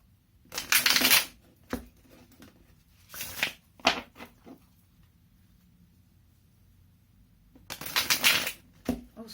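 Tarot cards are shuffled in a few short riffling bursts separated by quiet gaps, with scattered soft taps and card handling between them, close by and fairly quiet.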